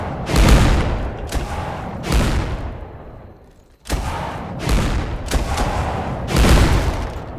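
Heavy artillery fire in a war game, shooting over a fence, booms out in a series of loud, deep blasts, each with a rumbling tail, with a short lull midway before more shots follow in quick succession.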